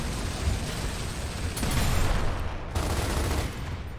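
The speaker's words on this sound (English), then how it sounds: "Who the fuck just threw a nuclear bomb?" Explosions and gunfire in the video game Gears of War, a dense, continuous roar of blasts and rumbling booms that swells in the middle, loud and without pause.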